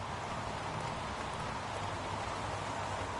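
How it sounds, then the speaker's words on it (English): Heavy rain pouring steadily in a video game, a dense continuous wash of hiss with no breaks, moderately loud and heard alone. "Goddamn rain. Hasn't stopped pouring since I arrived."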